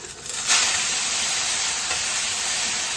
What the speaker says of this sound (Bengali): তো এই তেলে আমি একটু পেঁয়াজটা দিয়ে দিচ্ছি।